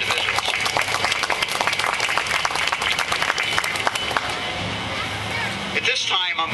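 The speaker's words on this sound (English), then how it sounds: "let's have a nice round of applause for all of these individuals" A crowd at a parade-day plaque and dignitary presentation applauds, sustained clapping with some cheering and crowd murmur, fading near the end as a voice starts over the noise.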